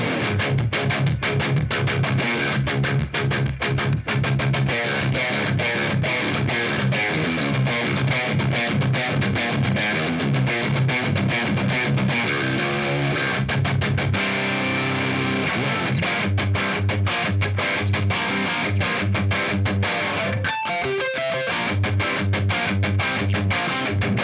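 Electric guitar played through a Fender Pugilist distortion pedal with its bass boost engaged, giving thick, heavily distorted chords and riffs with a deep low end, loud and continuous with brief pauses.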